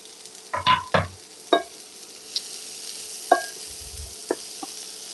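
Onions are tipped into a hot pan and stirred, giving a few loud spatula clanks and scrapes in the first two seconds, then sparser knocks over a faint sizzle; close, no voices.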